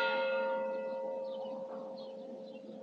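Church bell striking the hour near Los Montesinos, Torrevieja, on Spain's Costa Blanca: a sustained ringing tone with lingering overtones that fades slowly, the bell loud and clear against faint outdoor background.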